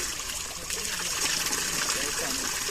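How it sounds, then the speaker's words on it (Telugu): Water trickles out from under a hill at Chilakala Gutta near Medaram, a steady close rushing hiss that holds without break through the short stretch. "ఇక్కడ గుట్ట కింద నుంచి అయితే వాటర్ వస్తున్నాయి"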